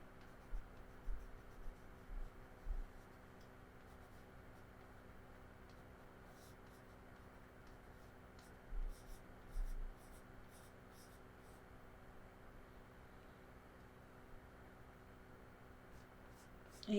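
Pencil sketching a portrait on paper, with quiet scratchy strokes close by in short bursts and long continuous passages over a low steady hiss.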